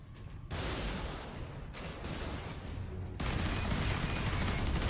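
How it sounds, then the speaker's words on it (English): Sentry guns fire in the video game Warhammer 40k: Space Marine, a dense, sustained roar of rapid automatic fire that cuts out briefly and resumes louder, close and continuous. "Lockdown in effect. Sentry guns ahead."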